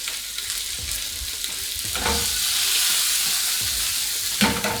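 Potatoes and other vegetables seasoned with salt and pepper are tossed in a hot frying pan, giving a loud, close, continuous sizzle that swells as they are moved, with a soft clatter near the end.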